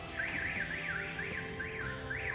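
A car alarm wails nearby, a repeating rising-and-falling electronic siren cycling several times in quick succession, loud and alone.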